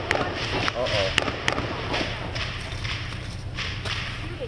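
Gunshots ring out at a police scene where an escalating crowd has gathered: several sharp, fairly distant cracks in quick, irregular succession, heard over a murmuring crowd and background voices.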